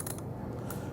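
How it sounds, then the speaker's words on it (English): Someone unscrews the threaded cylinder of a GX-7 gun by hand during a service strip-down, giving a brief, faint mechanical creak and grind close up, with no talk. "So now we can unscrew the cylinder,"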